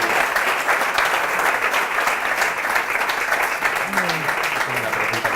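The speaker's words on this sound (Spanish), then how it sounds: "vamos a agradecer a Miguel un aplauso" Audience applause for Miguel at a Pint of Science talk, a steady, full round of clapping from a room of listeners lasting several seconds, with faint murmuring underneath.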